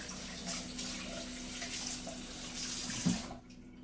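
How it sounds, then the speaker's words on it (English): A kitchen faucet runs steadily as hands are rinsed under it, a close, even rush of water for a few seconds before it cuts off abruptly. "so I'm just gonna quickly rinse my hands."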